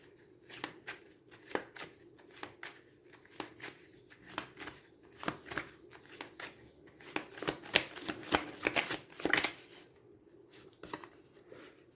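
Oracle cards are shuffled by hand in quiet, close-up bursts of papery riffling and slapping that repeat in an uneven rhythm for several seconds.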